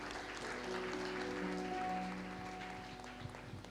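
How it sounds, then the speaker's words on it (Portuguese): A church congregation at a Sabbath service applauds in a sustained, even round of clapping, with faint steady tones humming underneath throughout. "Você pode aplaudir a Jesus."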